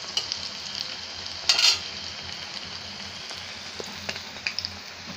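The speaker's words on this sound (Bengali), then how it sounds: "আমি একদম কম জালে বড়াটা করছি।" Okra (dheros) fritters frying in oil on low heat, giving a steady close sizzle with a brief louder crackle and a few small stirring clicks, no voices.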